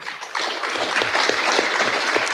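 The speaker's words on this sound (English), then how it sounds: "Round of applause, ladies and gentlemen." Audience applause at a book launch discussion on race, politics and leadership: a sustained wash of many hands clapping, starting abruptly and holding steady at a moderate, close level, with faint voices mixed in.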